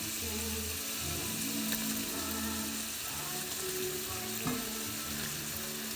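Zucchini sizzling in a buttered pan during a teriyaki stir fry, a steady, fairly quiet frying hiss with crackle that carries on evenly throughout, no one talking.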